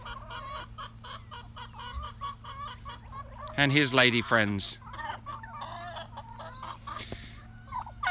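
Turkey and chickens on a farm in the early morning, with ongoing clucking and fowl calls, a loud burst of gobbling in the middle and someone talking briefly over the birds.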